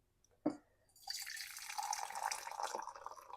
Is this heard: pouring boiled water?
yes